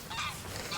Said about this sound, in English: Look at these geese in the middle of all the sheep.